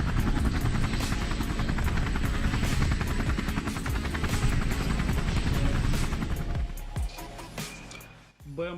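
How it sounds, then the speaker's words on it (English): Military helicopters firing on enemy positions and dropping heat flares, with a loud, continuous rotor roar and engine drone close by that eases off near the end. "Helicopters work on enemy positions with the aim of suppressing them."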